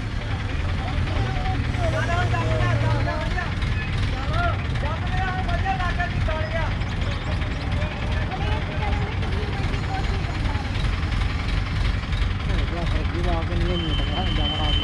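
An Indofarm Hydra crane engine labors and revs hard while trying to pull a loaded trolley outdoors, a loud continuous drone with people talking over it throughout.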